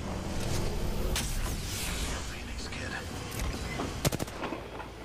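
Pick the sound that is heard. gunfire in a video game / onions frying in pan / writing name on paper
gunfire in a video game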